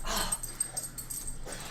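A dog growls and wheezes in a low, rough, continuous rumble close by, with brief louder snarls breaking through.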